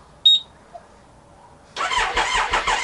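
A Triumph Speed Triple motorcycle engine cranks over for about a second after a brief electronic beep, a close, rough churning starter sound ending the short quiet stretch.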